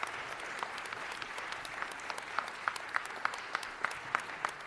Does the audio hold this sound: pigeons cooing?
no